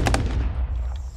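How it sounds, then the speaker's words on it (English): Two quick loud gunshots crack close together at the start, then fade into a rumbling echo during military ranger training. "A shot!"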